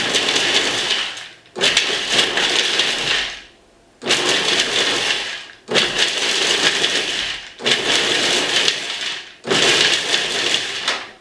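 A blender or food processor pulses almonds for romesco sauce in six loud, close grinding bursts, each about a second and a half long, separated by brief silent gaps.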